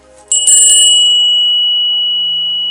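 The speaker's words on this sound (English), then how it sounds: "I'm going to ring the bell now." A single meditation bell is struck once near the start, giving a bright, clear ring that sustains and slowly fades over a couple of seconds in a quiet room.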